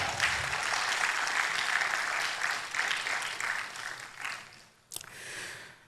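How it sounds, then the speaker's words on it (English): Sustained audience applause at an NGO forum on child labour, steady and fairly loud for about five seconds, then a brief sharp sound and a quieter tail. "Please, a hand of applause for all of us."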